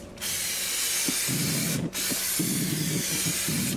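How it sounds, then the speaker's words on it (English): Brake cleaner sprays from an aerosol can onto a clutch's friction surface in two strong, continuous hissing bursts split by a short pause, close and loud, with light scraping underneath. "Just using the brake cleaner."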